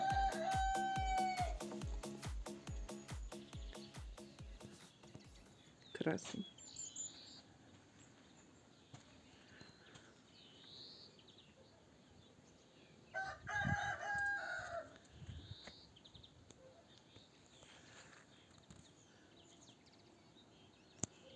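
A rooster crows loudly up close in the morning, followed by quieter, more distant crowing and clucking over faint outdoor birdsong.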